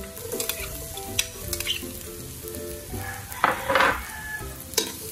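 Sliced ginger and about eight cloves of garlic fry in oil in a pan for a mussel ginger soup, a steady close sizzle broken by spatula scrapes and clinks against the pan, with no talking.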